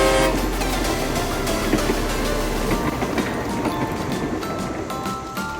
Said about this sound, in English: But first, I need to load the train